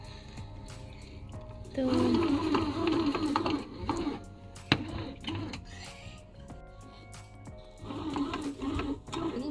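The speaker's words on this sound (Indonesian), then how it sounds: "Setelah rest 15 menit, kemudian mesinnya mulai muter lagi." A breadmaker churns white sandwich bread dough in rhythmic, groaning bursts, starting up after a rest, close and moderately loud, with a brief word spoken.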